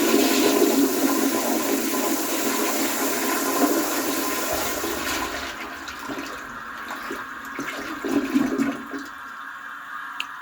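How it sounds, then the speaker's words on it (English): Flush of a 1929 Case toilet tank with a Crane Drexel lid, a loud rushing gush of water that slowly tapers into a quieter refill trickle, close up with no talking. "So yeah, it's a 1929 case tank with a Crane Drexel lid. And so yeah, I'll go ahead and get this a flush too."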